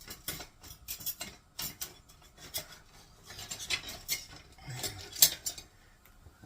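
A metal spoon clinks and scrapes against a cooking pot while bologna stew is stirred, producing a string of soft, close, irregular taps and rubs with no talk.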